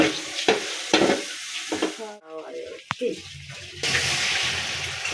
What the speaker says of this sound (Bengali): এবার চাউলগুলো দিয়ে দিচ্ছি। হালকা একটু নেড়ে নিলাম।